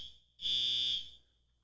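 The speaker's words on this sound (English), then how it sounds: "they must be testing the fire alarms around here" A building fire alarm sounding during a test, one sharp piercing electronic tone lasting under a second, fairly loud and close, with no voices over it.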